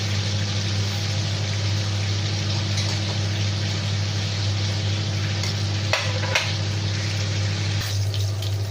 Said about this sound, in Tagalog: Cook na yung ating bacon.